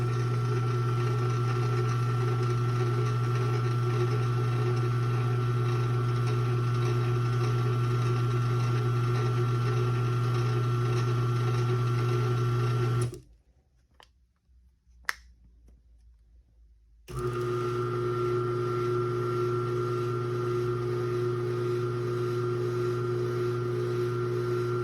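A Sears Craftsman 1/3 hp AC chain drive garage door opener runs with a steady loud motor hum and chain drone, stopping abruptly for a few seconds with a click before starting again and running on.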